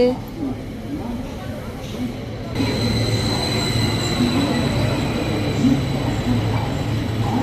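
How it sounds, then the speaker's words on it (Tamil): A Goldenpass Express train rumbles steadily close by as it arrives at a station in Switzerland near Montreux, with continuous wheel and rail noise that grows louder partway through, and a voice speaks over it. "இந்த ட்ரெயின் வருது நான் போகிற இடத்துக்கு ட்ரெயின் வந்து கொண்டு இருக்குது"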